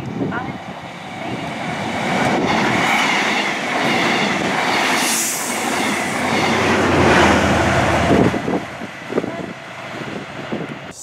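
A train passing through Normanton railway station, loud and close, with rumbling wheels, a rising rush and screech midway, and rhythmic clicking of wheels over rail joints as it moves off.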